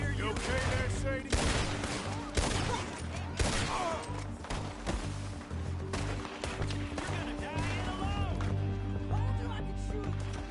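Gunfire in the Red Dead Redemption 2 game rings out in repeated shots over a busy battle soundscape with music, clattering impacts and voices, the bursts coming in irregular clusters throughout.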